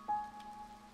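Rain falls in the video game To The Moon as a soft, steady patter under a faint held tone, with a brief louder tap at the start.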